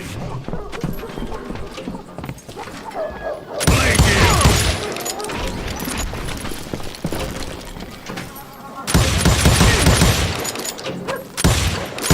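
Gunfire in the Western shooter Call of Juarez Gunslinger, heavy bursts of shots and booms coming in two loud volleys amid a busy game mix with someone talking over it.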